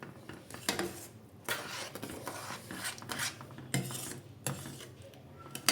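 A spoon scrapes and rasps against a pot while stirring sugar into thick carrot kheer, steady irregular strokes with occasional sharper metallic knocks, close and fairly quiet.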